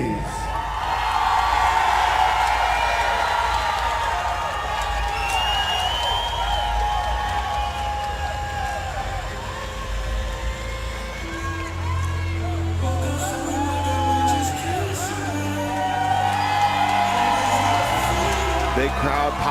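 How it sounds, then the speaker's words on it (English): A live crowd at an FAC 31 fight event cheers and whoops loudly for fighter Ray Hayes, a sustained roar of shouts and applause under an announcer's amplified voice, swelling again toward the end. "Big crowd pop there for Ray Hayes"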